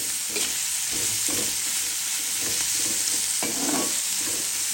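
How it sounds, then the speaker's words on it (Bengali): Onion with a little turmeric frying in a pan for a papaya and carrot bhaji: a steady close sizzle with soft scraping bursts of stirring at regular intervals. "হতে থাক ভাজা ভাজা।"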